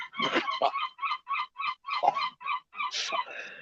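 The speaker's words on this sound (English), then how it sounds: "even the seagulls are laughing at that one" Seagulls call repeatedly outdoors in a steady series of loud, nasal squawks, close by, with one longer cry near the end.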